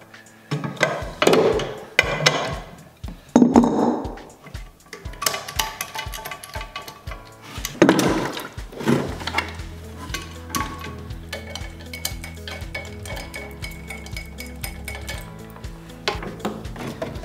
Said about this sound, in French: avec une clé à molette, on va venir dévisser la vis du bas